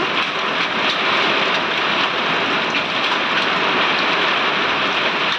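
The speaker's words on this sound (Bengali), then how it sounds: "এখন পাথর পড়ছে দেখো গাইস কত পাথর পড়ছে" Hailstones and heavy rain pour down during a Kalbaishakhi storm in rural Bengal, a loud, unbroken hiss of dense falling drops that stays steady throughout with no voices.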